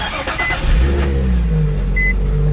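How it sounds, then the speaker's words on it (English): Nissan Z drift car engine cranking and catching, then settling into a loud, close, steady idle with a low rumble and small throttle blips. "I'm gonna go ahead and start the car again, let it run."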